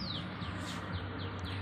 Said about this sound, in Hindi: और ये देखो एकदम शांत वातावरण, चिड़िया की चू चू, चिड़िया ने अपने घोंसले संभाल लिए हैं दोबारा